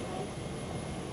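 A jet airliner roars at an airport as it taxis in close by, a loud, steady, broadband engine rush filling the whole moment without a break.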